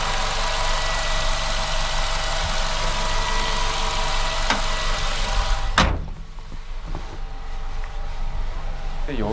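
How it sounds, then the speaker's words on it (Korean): A Renault Samsung QM6 engine idles with a steady, low, even hum under someone speaking, followed by a door-like thump and a slightly quieter, continuing idle. "아이들링도 조용한 아이들링"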